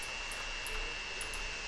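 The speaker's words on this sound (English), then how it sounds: "Oh, that is a plane." Airplane in a transport tycoon game, a steady engine drone holding one constant tone, with no talk.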